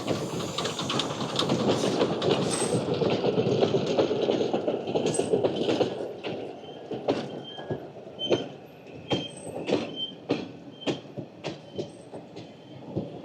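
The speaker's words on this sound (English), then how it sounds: "this old steam train that runs around the Bay of the Somme" A small old steam train rumbles along steadily around the Bay of the Somme, then rhythmic clickety-clack of wheels over rail joints with occasional squeals, close and moderately loud.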